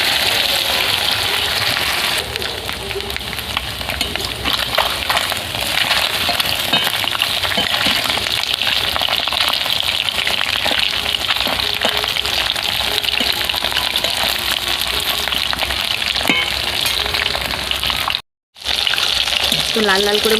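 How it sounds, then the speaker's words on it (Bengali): Pieces of snakehead fish fry in hot oil until browned, giving a steady, loud sizzle and crackle throughout, with small stirring clicks and a brief dropout near the end. "এইভাবে বিচিতে আমি ভালো করে লাল লাল করে ভেজে নেব।"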